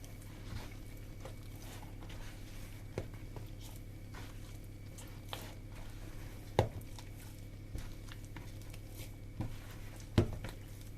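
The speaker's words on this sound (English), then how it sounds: "Let's start kneading this dough." Cottage cheese scone dough kneaded by hand in a bowl, giving a steady soft patter of squishing and pressing with a few sharper slaps standing out.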